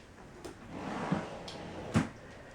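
In a craft room, a drawer slides along its runner and then bumps shut with a short knock, all fairly quiet and close, with no speech.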